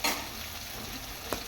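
Ginger garlic paste fries in a pan, giving a soft, fairly quiet sizzle with a scrape of stirring at the start and a brief clink near the end.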